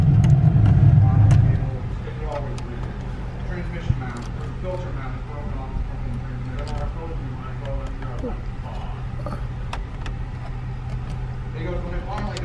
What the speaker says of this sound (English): Revs up nice and smooth.